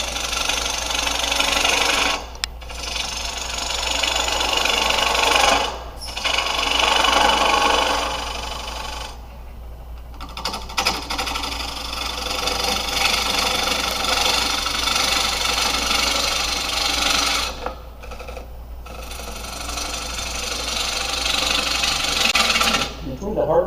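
Wood turning on a lathe with a bevel tool braced against the body, the blade scraping and rasping in repeated strokes over a low motor hum, with short pauses between passes.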